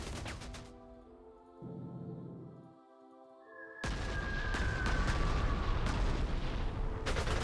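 Tank attack fire in the Panzer Corps 2 strategy game: a heavy booming cannon blast opens, a low rumbling lull follows, then a loud sustained barrage of crashing impacts and explosions with a rising whistle, fairly close and with no talk.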